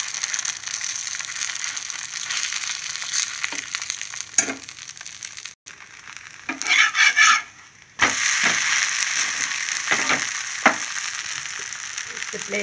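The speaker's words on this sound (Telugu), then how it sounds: "ఉత్తి ప్లెయిన్ దోశ వేసుకుందాం." Plain dosa batter sizzles loudly and steadily on a hot griddle, with a short scraping and clattering burst midway before the even frying hiss resumes.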